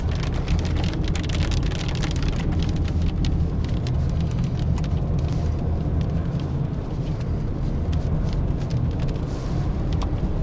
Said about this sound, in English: we're gonna have to punch through about 6 miles of rain